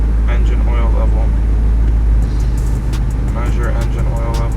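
A BMW F90 M5 sits idling while it warms up, a steady low engine rumble running throughout, with a voice talking over it.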